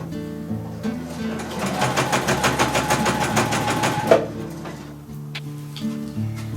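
A sewing machine runs a gather stitch along the edge of a dress in one steady, rapid burst of needle clatter lasting about two seconds, with quieter handling noise and faint background tones before and after.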